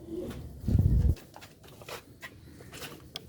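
A Sialkot pigeon of an old original breed gives a low, close coo in one short burst, then faint rustles and small clicks follow. No one speaks.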